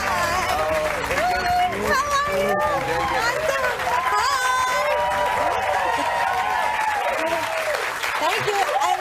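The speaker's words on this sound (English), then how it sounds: "Please give a round of applause for Meghan McCain on the Dan Jones Show" A talk-show studio audience applauds and cheers for guest Meghan McCain, a dense, steady roar of clapping mixed with whoops and crowd voices that holds for the whole stretch.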